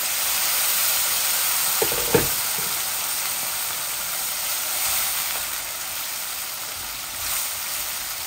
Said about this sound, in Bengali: এই যে একটু গরম পানি দিলাম।